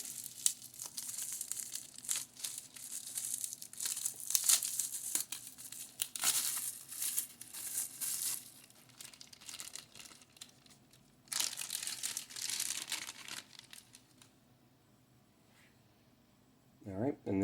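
Plastic blister packaging crinkles and crackles as a Dungeon Dice Monsters figure is worked out of it, in close bursts of sharp crumpling with short quiet gaps and a voice speaking near the end.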